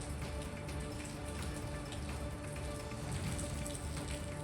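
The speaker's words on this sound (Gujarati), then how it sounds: "ભારે પવન સાથે વરસાદ વરસ્યો" Unseasonal rain pours down in strong wind in Sabarkantha, Gujarat, a dense, continuous roar of drops on surfaces with gusty rushing, even and fairly quiet throughout, with no voices.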